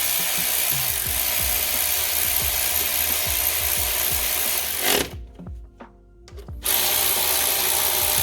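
A ratchet tightening the outer case bolts of a Ford Freestyle water pump clicks in a rapid, regular run of close strokes, pauses briefly, then starts clicking again.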